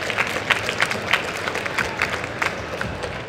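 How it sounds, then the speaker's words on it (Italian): An audience at a comics convention panel at Cartoomics claps in a brisk flurry. Scattered louder claps and a few crowd noises rise out of it, fairly close and lively. "io voglio l'applauso"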